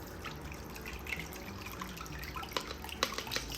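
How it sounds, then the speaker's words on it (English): Palm fruit extract poured through a colander sieve into a pot, a quiet continuous trickle of liquid with occasional drips and splashes standing out near the end. "I'm going to sieve it directly into the pot"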